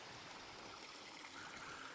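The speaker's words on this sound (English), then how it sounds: "Another little waterfall there." A small waterfall and stream pour steadily near a campground, a continuous broadband rush and trickle of water flowing with no voices.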